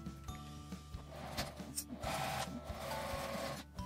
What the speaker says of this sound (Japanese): 反対側も底から6センチ折り返して1センチの縫い代で縫います